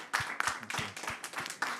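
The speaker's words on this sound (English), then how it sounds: "Let us give a round of applause for the first to the first panelist." A small conference audience claps for a panelist at a climate adaptation session, with a few distinct, uneven hand claps close by.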